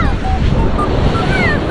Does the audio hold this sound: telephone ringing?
no